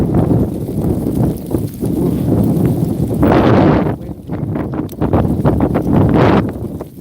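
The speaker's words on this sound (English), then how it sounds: "Shit, very windy." Strong gusting wind buffets an outdoor microphone while walking around Inagi, Japan, a loud broadband roar that swells and drops in surges across the whole stretch, with no one speaking over it.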